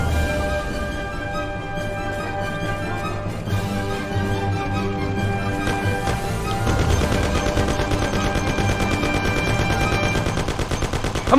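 Thompson submachine guns fire in the 1930s gangster game Mafia: The City of Lost Heaven, a rapid, rattling stream of automatic bursts over a musical score that grows louder and denser toward the end.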